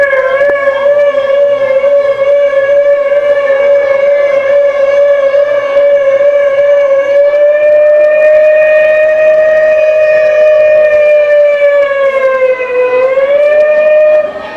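A voice imitates an ambulance siren in a rounder tone, a long, loud, close sustained wail that holds level and then dips and rises near the end, with no talking over it.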